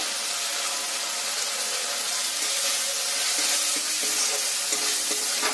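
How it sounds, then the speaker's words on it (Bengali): A spice paste sizzles in a hot pan as turmeric and Kashmiri chili powder are stirred in, giving a steady, close frying hiss with faint scraping near the end. "মশলাটা আমার কষানো হয়ে গেছে, এতে দিয়ে দেব 1 চামচ হলুদ গুঁড়ো, 1 চামচ কাশ্মীরি লঙ্কার গুঁড়ো"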